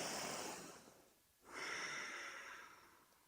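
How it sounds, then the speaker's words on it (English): Slow deep breathing during a yoga exercise: a long airy exhale fading out, a brief pause, then a fuller inhale, close and alone with no talk. "take another deep inhale and exhale here"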